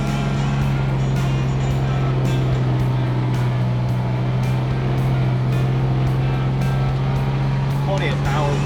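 A Kubota utility vehicle climbing a hill, its engine droning steadily and loudly close by with a constant low tone throughout.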